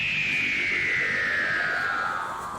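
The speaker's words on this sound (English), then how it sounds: "That is the sting or the cliffhanger sound used in the intros and outros of Doctor Who." The Doctor Who cliffhanger sting from the intros and outros, a single shrill electronic wail sliding slowly downward over a rumbling noisy bed, moderately loud with no voices.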